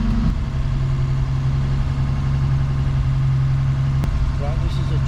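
A Rover P4 car engine idles out of gear, a steady low hum running under continuous background noise, with a brief click or knock near the end.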